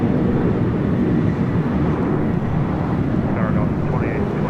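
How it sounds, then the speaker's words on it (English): A Boeing 787-10 Dreamliner heavy jet takes off from the south side at LAX, a loud, steady broadband roar that holds throughout. "787-10 Dreamliner will be our next heavy takeoff on the south side."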